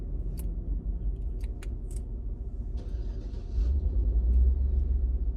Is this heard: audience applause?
no